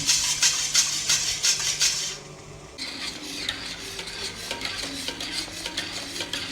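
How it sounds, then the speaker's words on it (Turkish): A spoon or whisk scrapes steadily around a pot of custard cream made from milk, eggs, sugar and starch, a rhythmic close rasping stir with a brief pause midway, no voices. "Pütürlenmeden, dibine tutturmadan devamlı karıştırıyoruz kremamızı."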